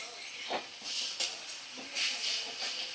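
Ginger-garlic paste masala fries in a pan while cooking a bhetki fish dish, making a steady airy sizzle that rises and falls in several soft surges, close and fairly quiet.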